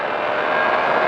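A race car on the Magny-Cours circuit with its engine droning steadily and loudly under acceleration, a continuous smooth roar with no voices.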